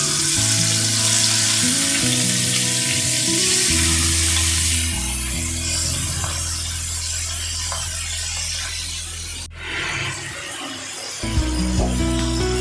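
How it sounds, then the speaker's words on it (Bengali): Prawns fry in hot mustard oil, giving a loud, steady sizzle and hiss that lasts throughout, with a few stirring scrapes and a brief dip near the end. "তেল আমার গরম হয়ে গেছে। এবার আমি চিংড়ি মাছগুলোকে এর মধ্যে ছেড়ে দিচ্ছি।"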